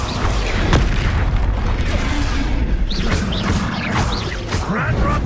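Spell-blast effects from a fantasy video game's Bombarda explosion spell: a loud, dense rush of booming, crackling and whooshing blasts with swept tonal streaks, constant throughout the short stretch.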